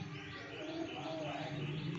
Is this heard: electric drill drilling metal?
no